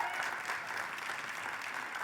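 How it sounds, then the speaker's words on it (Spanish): Audience applause fills a church service honoring the young people serving that day, a steady wash of many hands clapping at moderate distance, continuous and even throughout with no voices on top. "Démosle un fuerte aplauso a los muchachos."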